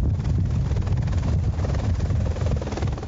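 A rescue helicopter at the scene of a two-car crash on highway PR-445, its rotor producing a continuous, loud, rhythmic thudding drone throughout, with no voices heard.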